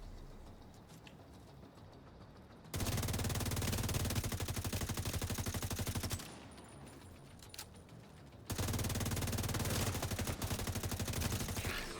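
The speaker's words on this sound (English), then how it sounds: "We can shoot both turrets from here." Rapid automatic gunfire from a video game as turrets are shot, two loud sustained bursts of a few seconds each separated by a quieter stretch of game ambience.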